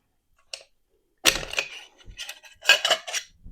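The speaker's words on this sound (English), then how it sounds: "We'll get this dust cover off of here." A dust cover is worked off a Pioneer Arms 5.56 underfolder rifle, making a faint click followed by a run of close, sharp metallic clacks and scrapes with short pauses between them.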